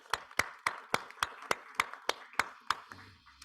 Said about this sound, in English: maybe we can do a round of applause again